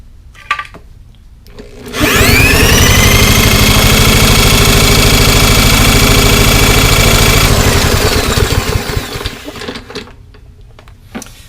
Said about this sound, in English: I have the drill all set up. All I have to do is not slice this cord with the blade as I spin this thing around.